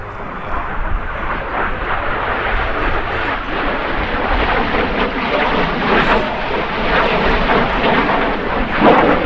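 An F-86 Sabre jet aircraft roars past during an air show display, a loud sustained rushing engine noise that stays strong throughout.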